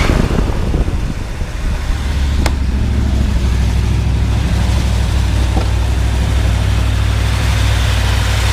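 A 1977 Dodge W100 Power Wagon Adventurer with a 440 engine and Edelbrock carburetor and intake idles steadily and loudly close by, a deep low rumble with constant hiss and no talking.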